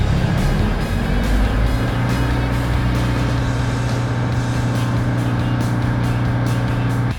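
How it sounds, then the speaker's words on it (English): A Hays-LTI side discharge tender's engine runs loud and close, its low drone rising in pitch as the revs climb steadily, then holding a constant hum. "turn the key to the right until the engine starts"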